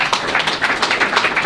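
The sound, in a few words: applause for club captain Carl Dempsey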